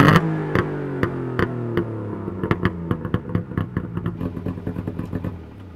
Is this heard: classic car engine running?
yes